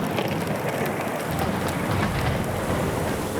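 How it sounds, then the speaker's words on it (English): Heavy rain pours steadily on a coastal shelter during a worsening thunderstorm, a dense, loud hiss with low rumbling underneath, no voices. "The storm is getting worse."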